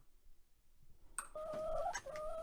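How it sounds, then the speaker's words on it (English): Speckled Sussex hens and a Delaware rooster in a breeding group cluck and call loudly and close by. A second of near silence comes first, then a steady run of voiced, tonal calls with no talking. "these are speckled Sussex hens and a Delaware rooster"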